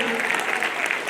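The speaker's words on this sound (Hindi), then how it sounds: "हम अपने अतिथियों का के अपने इस सदी का स्वागत, अभिनंदन, तालियों के साथ स्वागत करें" An audience at a Makar Sankranti festival gathering applauds to welcome guests, a brief, loud, dense burst of crowd clapping with an announcer's voice partly mixed in.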